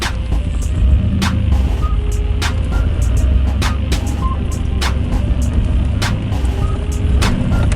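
Interior road noise from a third-generation Chevy Camaro fitted with a truck motor, a steady loud low engine drone and tire rumble with periodic sharp ticks, continuous throughout with no talking.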